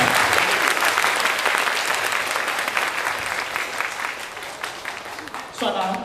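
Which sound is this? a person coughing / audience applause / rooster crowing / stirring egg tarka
audience applause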